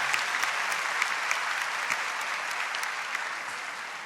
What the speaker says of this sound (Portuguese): Uma salva de palmas a todos que vêm à Canção Nova